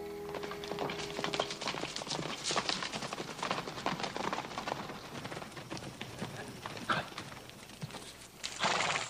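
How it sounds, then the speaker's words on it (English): Hooves clip-clop steadily on hard ground as horses approach, with a brief whinny near the start and a rustling outdoor background. "Charlie, take the horses."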